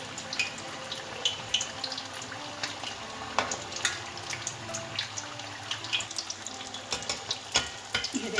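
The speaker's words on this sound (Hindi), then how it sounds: "अब दूसरी साइड से फ्राई कर लेंगे।" Chicken and cheese packets fry in a pan after being flipped, a continuous close crackling sizzle with scattered pops and faint clinks, steady throughout with no voices.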